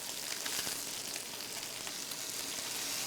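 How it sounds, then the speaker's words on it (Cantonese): Mountain stream fish shallow-frying in hot oil over medium heat, a steady dense sizzle with crackling pops running evenly throughout, close and fairly loud with no voices. "熱油用中火慢切，直到山坑魚兩面變到焦黃"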